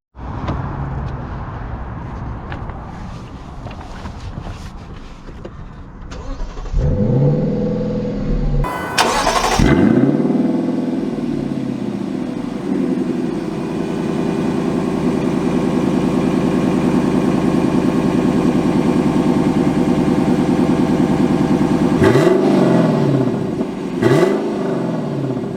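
A 2022 Lexus LC 500 starts with a sharp engine burst, then settles into a steady, loud, close-up drone with brief revving swells near the end. No one speaks.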